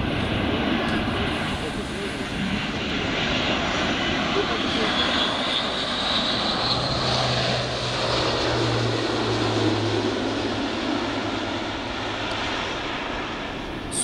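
A loud, steady roar of an Airbus A400M four-engine turboprop military aircraft climbing, sustained throughout with a low droning hum, at an air show tactical display.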